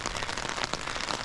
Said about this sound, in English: As you can see, it's a raining morning.